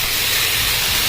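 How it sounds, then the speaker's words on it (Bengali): Chicken pieces added to hot oil with reddish fried onions give a steady, loud hissing sizzle that fills the short moment with no talk. "এর মধ্যে আমি চিকেনটা দিয়ে দিলাম।"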